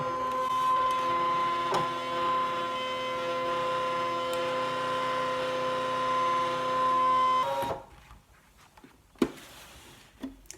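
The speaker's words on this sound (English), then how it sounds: "I'm going to say OK and do a background scan and start the machine." A Brother ScanNCut cutting machine runs a background scan, giving a steady mechanical whir with sustained tonal hum for about seven seconds before stopping abruptly, followed by a few faint clicks in near silence.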